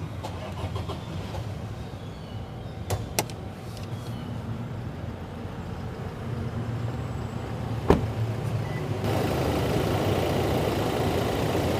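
A 2018 Toyota Fortuner 2.8 4WD diesel SUV engine idles with a steady low rumble, a couple of faint clicks, and the hum growing slightly louder near the end.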